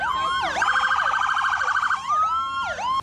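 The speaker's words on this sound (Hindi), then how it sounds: "जो अपने सायरन बजाती नजर आईं।" Loud wailing police and fire truck sirens sweeping up and down, then a rapid yelping pattern, close by with no voices.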